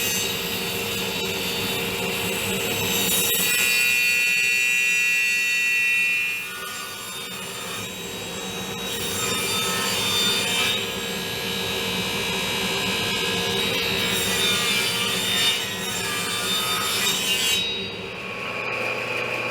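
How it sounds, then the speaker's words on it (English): A 2x6 pine board is sawn for a bench rail, producing loud continuous rasping cutting noise that shifts in pitch and intensity, with a brief lull midway before the saw resumes, no speech. "Now I'm going to cut some 2x6 pine"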